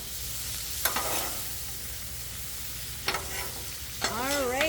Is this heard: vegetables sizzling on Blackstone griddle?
yes